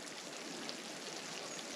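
A mountain stream flows beside a trekking path, a steady, faint hiss of running water with no talking over it.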